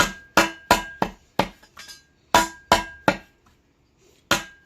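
Sharp metal hammer blows strike a broken garden shovel, about eight close, ringing impacts in an irregular rhythm with brief pauses between them, each decaying quickly.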